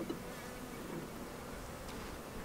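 Honeybees swarm around an open long hive, their soft, continuous buzzing forming an even drone with no talk over it.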